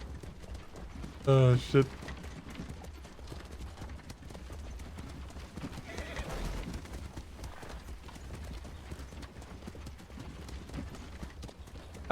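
Horse hooves clip-clop in a video game while the rider sits side saddle, a steady rhythmic patter running under casual talk, with a brief loud exclamation near the start.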